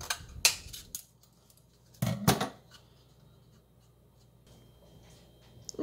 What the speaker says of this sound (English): Using scissors, remove any excess paper from the roll.